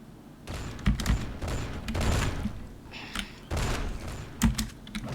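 Bursts of rapid gunfire in BloodRayne 2 crackle in short volleys, separated by brief pauses, with sharp clicks and booms scattered throughout.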